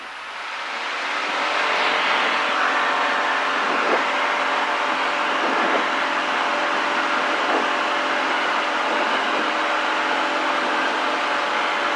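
A small plane's engine drones steadily at close range during taxiing on a STOL course, swelling in over the first seconds and then holding as a constant, fairly loud hum.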